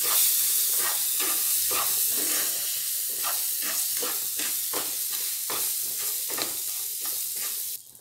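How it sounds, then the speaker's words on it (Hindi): Cashews, almonds and raisins roast together in a pan, giving a steady hissing sizzle broken by a regular rhythm of stirring strokes, close and fairly even in loudness. "इसको थोड़ा सा साथ में भून लेते हैं"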